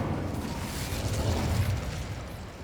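Incendio fire spell cast in the video game Hogwarts Legacy, giving a muffled, rumbling fiery burst that holds steady for a couple of seconds at moderate-low volume.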